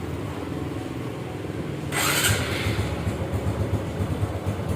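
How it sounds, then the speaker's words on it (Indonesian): A restored Honda Supra X 125 motorcycle engine fires on a single press of the starter with a sudden burst, then settles into a steady, close idle. "Mesin sekali starter cegrung ya"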